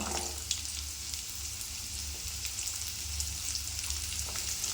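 Lentils, garlic and pirandai stir-fried in a pan, giving a soft continuous sizzle with faint scraping of a spatula, moderately quiet and steady throughout.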